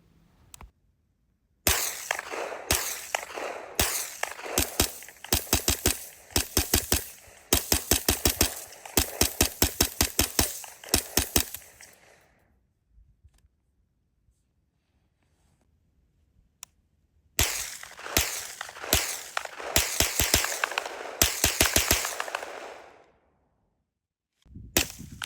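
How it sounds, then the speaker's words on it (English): Bursts of gunfire from a Zenith ZF5P MP5K through a PTR Vent 2 ring out as rapid sharp cracks in two long strings of shots separated by a quiet pause, loud and close. "So here you see the first shots through the PTR Vent 2."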